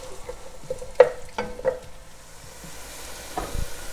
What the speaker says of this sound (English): I'm just going to saute that until it softens up a bit, about 4 or 5 minutes.